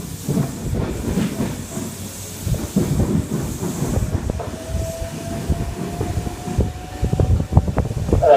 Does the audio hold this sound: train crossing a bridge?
yes